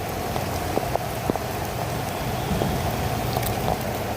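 Heavy rain pours steadily in Hyderabad during a thunderstorm, a dense even hiss of drops on surfaces with a few sharper splashes, continuous and close.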